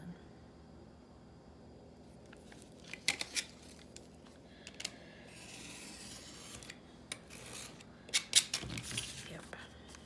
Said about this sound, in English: We'll trim him down and call it done.